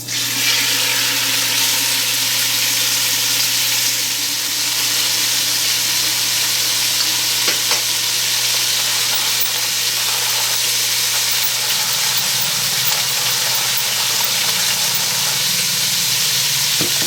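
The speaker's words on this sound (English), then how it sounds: "I'm going to add about 2 tablespoons of oil, and then we're browning this pork tenderloin first." Pork tenderloin browning in about two tablespoons of hot oil in a Dutch oven gives a steady, loud broadband sizzle that holds for the whole stretch, with no talking over it.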